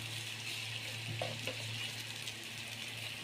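Onions sizzling in a little oil in a pan, a steady close frying hiss with faint stirring clinks, no talking.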